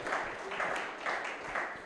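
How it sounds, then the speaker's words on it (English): An audience applauds for Captain Klasi Khopa at a BMF gathering in Limpopo, with steady, moderately distant clapping that swells in several waves across the short stretch. "Let's give a huge round of applause to Mr. Klasi Khopa"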